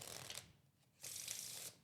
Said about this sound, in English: So basically what that entails is shuffling the cards